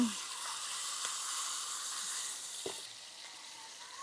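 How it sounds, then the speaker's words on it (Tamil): Tamarind water hits a hot pan for a Jaffna-style brinjal curry, giving a steady hissing sizzle that fills the whole moment, with a couple of faint knocks. "கரைத்த புளியை பின்பு சட்டியுள் ஊத்தவும்"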